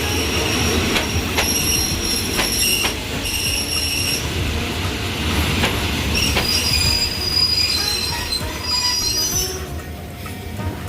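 A train running on the railway line from Bangkok toward Chuk Samet, Thailand, gives a continuous loud rumble with high metallic wheel squeals and occasional clacks over the rails, steady and close throughout.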